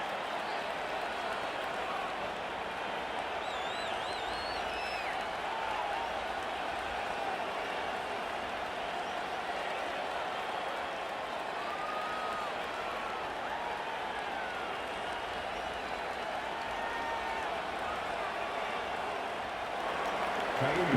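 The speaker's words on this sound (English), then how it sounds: "This crowd, boy, in a state of shock." A broad, steady roar from a stadium crowd fills a Madden NFL 25 football game during an AFC Wild Card matchup, a constant wash of cheering with a voice talking faintly over it.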